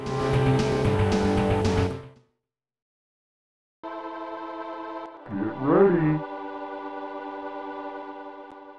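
Synthesized racing car engine from a SNES IndyCar game: a steady, loud chiptune-like engine drone, a gap of silence, then a sustained tonal engine hum with a brief rising and falling wobble like a tire squeal.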